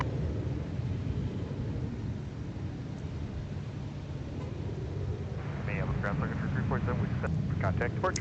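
A Sun Country airliner touching down on runway 35 at Minneapolis airport, heard as a broad distant jet roar rising slightly, with radio voices talking over it toward the end.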